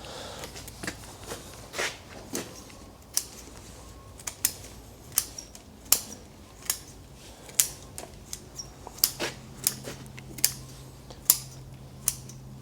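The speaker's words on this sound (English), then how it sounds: "So it's these fine roots we're going to cut. So we cut them all off." Shears snipping off the fine roots of a field maple, a steady series of sharp, close cuts spaced about half a second apart.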